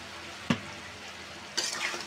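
Three medium potatoes with salt, sautéed in a pan for a potato, okra and river fish curry, sizzle steadily with two distinct stirring scrapes, one sharp stroke early and a longer scrape near the end, close and alone.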